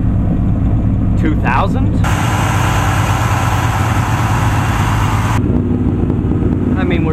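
A 1983 GMC K10 engine with a Quadrajet carburetor idles fast and loud, a steady rumbling drone throughout, with a voice speaking briefly over it.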